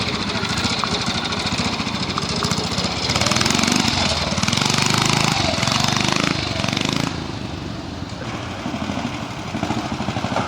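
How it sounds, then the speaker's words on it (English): A BSA C10 250 rigid-frame motorcycle engine runs loud and close with a steady, chattering beat, swelling as the revs rise midway and then settling back to a lower, even running note. "Mark Feather, C10, 250 rigid BSA"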